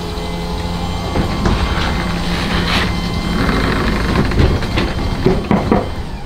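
A garage door motor drones steadily with a mechanical rattle and clanking as an LPU42 sectional door is hauled upward, close by and fairly loud.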